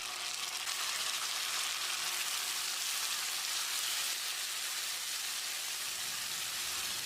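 Finely chopped large tomato hits a pan of well-sautéed onions, giving a steady, dense sizzle and crackle of frying throughout, close and continuous with no voices.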